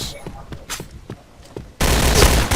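Gunfire erupts in a video game, a sudden loud burst of rapid shots after a stretch of quieter clicks and voices, with a player talking just before it.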